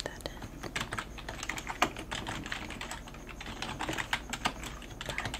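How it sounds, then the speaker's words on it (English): Fingers type steadily on a computer keyboard in a soft-spoken library checkout setting, with dense, close clicking keystrokes and a few louder taps, heard without talk. "Okay, so I'm gonna type that in."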